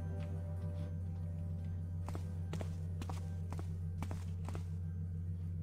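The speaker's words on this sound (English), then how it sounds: "footsteps, I can't quite place them" Footsteps in the stealth game Thief, in the Crom's Blade fan mission's caves, land as a series of soft, evenly paced thuds over a constant low hum, fairly faint and distant.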